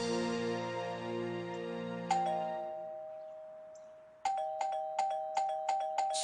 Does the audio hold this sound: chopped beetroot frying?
no